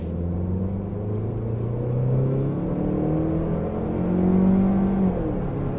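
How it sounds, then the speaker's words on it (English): A 2017 Ford Focus compact sedan with a 2-liter engine accelerates on the road, its engine note a steady, rising drone that swells toward the end, heard alone without voices. "Let's take it for a drive."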